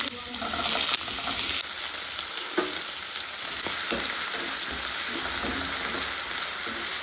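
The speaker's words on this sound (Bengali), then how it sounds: "এখন আমি আলু ভাজবো" Potatoes fry in hot oil in a pan for chowmein, a steady close sizzle with occasional clinks and stirring scrapes, no voices.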